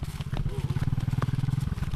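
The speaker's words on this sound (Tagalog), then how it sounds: "Pinalusot ko na ang motor ay" A motorcycle engine idles with a steady, throbbing low pulse, close by in a rice field, with faint clatter and muffled sounds around it.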